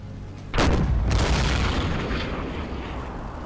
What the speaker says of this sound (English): Let's shoot him a little bit lower on the smokestack.